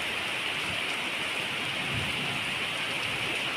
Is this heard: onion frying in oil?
no